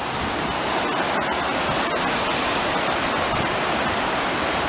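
Water pouring over a weir on a river in Merthyr Tydfil, a dense, loud, unbroken roar of rushing flow filling the whole stretch, with no voices.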